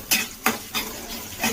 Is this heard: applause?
no